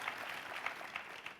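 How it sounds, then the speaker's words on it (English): Brief audience applause at an industry conference interview, a quiet, distant patter of clapping hands with a few sharper claps standing out, steady and short. "A round of applause for Team Coco."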